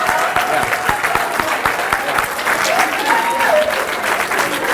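Sustained audience applause at the Woodward School Founders Night honours the performers and guests: dense, steady clapping from a large crowd holding an even level throughout, with a faint voice or tone rising briefly through it.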